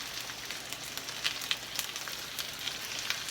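Chicken pieces fry in shallow oil for cashew chicken. A steady crackling sizzle is broken by frequent small pops and spits, fairly close, with no voices.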